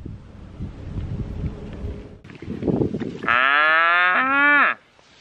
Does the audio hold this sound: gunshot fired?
no